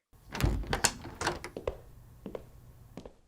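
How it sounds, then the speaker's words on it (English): Door opened onto a hotel corridor, with a heavy close thunk followed by a series of clunks and rattles from the handle and latch, then quieter knocks as it settles, in an otherwise quiet room. "I'm going to open the door and take a look."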